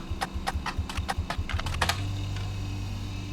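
Rapid clattering keystrokes on a computer keyboard during a playtest of a detective puzzle game, a quick run of close, crisp clicks that stops partway through, leaving a low steady hum underneath.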